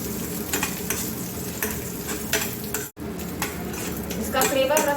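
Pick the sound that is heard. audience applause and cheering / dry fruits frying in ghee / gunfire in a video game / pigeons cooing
dry fruits frying in ghee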